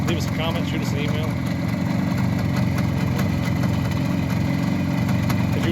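A 1974 Suzuki T500 two-stroke motorcycle engine runs at a steady idle with an even, rumbling burble throughout. Someone talks over it.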